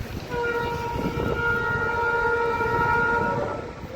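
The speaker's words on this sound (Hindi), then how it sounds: "फतेहपुर स्टेशन पहुंच गए हैं और ट्रेन भी आने वाली है" Train arriving at Fatehpur railway station in India, a long multi-tone horn blast sounding steadily over rumbling rail noise, fairly loud and sustained for about three seconds.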